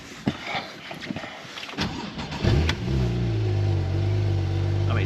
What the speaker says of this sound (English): perfect flat six sound, just like you'd expect from a Porsche 911.